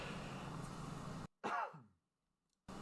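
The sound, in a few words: man coughing and clearing his throat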